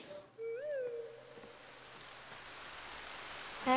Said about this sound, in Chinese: 下雨了，你带伞了吗？